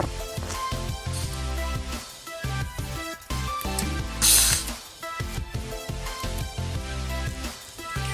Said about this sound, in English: you will use the pliers to tighten it up